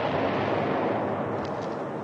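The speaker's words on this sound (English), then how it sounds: "Where's that Jap artillery?" Artillery fire in a World War II combat film, a dense, continuous roaring rumble of distant barrage that fills the whole stretch with no pauses or speech.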